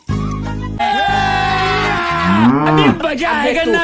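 A buffalo gives loud, drawn-out moos close by, one long call followed by a second rising and falling bellow, with no talk over it.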